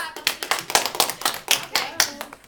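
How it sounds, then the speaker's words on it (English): Children clapping their hands in a third-grade classroom, a quick run of sharp, fairly close claps in an uneven rhythm with some voices mixed in. "We can clap."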